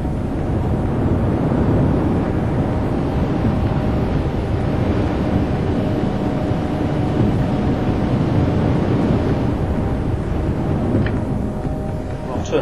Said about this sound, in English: The wind is switched on again.